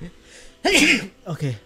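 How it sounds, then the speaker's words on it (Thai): A man lets out one hard, explosive sneeze, close and loud, framed by brief bits of his own speech before and after. "ขออภัยเสียงรบกวนเมื่อกี้นะครับผมจามหนักมาก"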